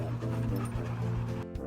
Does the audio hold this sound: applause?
no